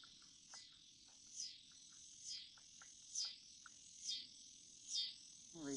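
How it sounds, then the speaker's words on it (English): Loud cicadas buzz outdoors at a rural cemetery, a steady high shrill drone swelling in regular pulses roughly every second, with fainter chirps beneath and no talking. "Are those cicadas? I believe so. They're really loud."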